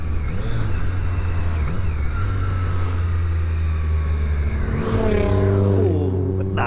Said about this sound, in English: I do love a good engine noise.